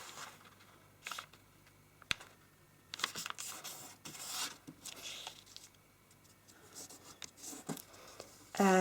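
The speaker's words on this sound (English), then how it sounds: "We're going to first fold point to point." Origami paper for a star infinity, colored side up, folded point to point: scattered crisp crinkles and scrapes come in bursts of varying loudness, close and fairly quiet, with a sharper rustle at the end.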